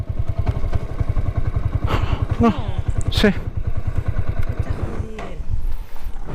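A motorcycle engine chugs unevenly and struggles to pick up revs, close and loud, with brief speech and a few clattering knocks over it.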